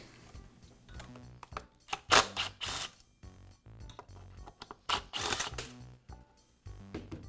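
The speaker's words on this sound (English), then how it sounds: "I have access to the screws that secure the spike. I'll go ahead and remove them." Screwdriver work removing the screws that hold the spike on a Poulan chainsaw, close clicking and ratcheting with bursts of metallic scraping as the screws turn and come out, no talk.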